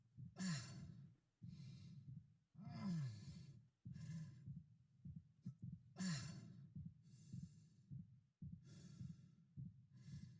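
Isaac, the injured hero of the Dead Space Remake video game, breathes in a fatigued rhythm: heavy, ragged inhales and exhales repeat in close succession, with pained winces and sighs, close and alone.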